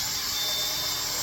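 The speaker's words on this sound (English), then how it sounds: "just drill a hole" A drill bores a hole in a brief, steady burst, its high whirring grind continuous and fairly close, with no talk.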